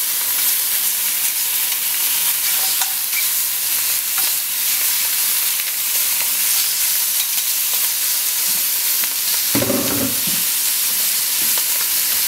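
Squid searing in a smoking hot frying pan, a loud continuous hiss and crackle with a burst of heavier sizzling and scraping as pieces are turned partway through.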